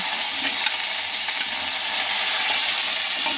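Potatoes frying in hot oil with asafoetida and ginger paste, a steady close sizzle and hiss running throughout with faint stirring clicks, no voices.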